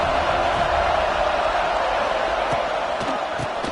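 Broad roar of a football stadium crowd at an FSU versus Boise State game, a dense continuous wash of cheering noise with faint voices over it.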